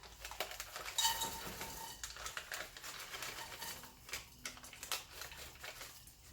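Blanched sliced almonds clatter and rattle into a sprayed pan for toasting, a quick series of light tapping, clinking bits with scattered brighter hits.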